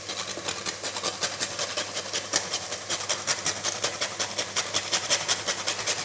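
Whole nutmeg grated on a cheese grater for pumpkin soup, a steady rhythmic rasping of quick back-and-forth strokes, close and moderately loud, without talking.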